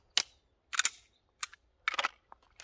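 A pistol is cleared with a quick series of sharp metallic clicks and clacks from the slide and action, crisp and close in an otherwise quiet space.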